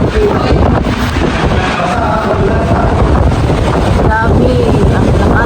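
Powerful wind rushes past high up on the 29th floor, a constant loud roar with buffeting gusts, while a person talks faintly beneath the noise.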